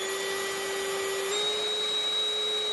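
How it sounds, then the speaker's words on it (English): A vacuum cleaner runs steadily, its motor whine shifting upward partway through to a higher pitch, with a constant airy rush throughout. "You can clearly hear the vacuum is running at a higher pitch, a higher speed"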